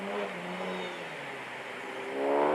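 A car passes close by on a street in Bakersfield, California, its engine tone sweeping down and then rising again as it revs away, moderately loud and alone.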